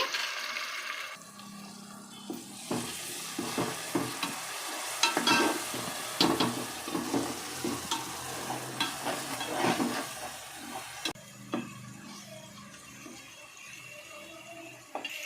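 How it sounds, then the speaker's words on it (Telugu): Tomato paste frying in a pan as the base of a Telugu-style fish curry, a steady close sizzle with repeated scraping stir strokes and a brief watery stretch near the end. "దీన్నంతా పది నిమిషాలు వేయించుకోవాలంట"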